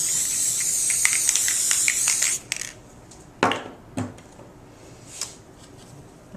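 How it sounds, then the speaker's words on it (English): Spray adhesive hisses from an aerosol can onto mat board in a long continuous burst, followed by a few short clicks and light handling taps. "So the first thing that you want to do is spray your mat board down"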